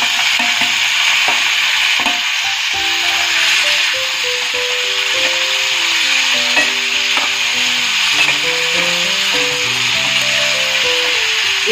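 Onion, tomato, green chili and cashews cook in a pan, giving a constant loud sizzle, while a faint melodic tune plays softly underneath throughout.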